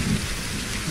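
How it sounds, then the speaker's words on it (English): Steady, dense rainfall in the video game Reign of Kings, a loud continuous hiss with no gaps through the short stretch. "it's raining. A bit loud."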